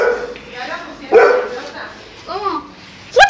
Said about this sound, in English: Dog, start barking.